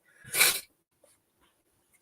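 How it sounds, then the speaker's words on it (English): A single short, sharp sneeze bursts out close by, followed by near silence with only faint small rustles. "this is miserable sneezing so much"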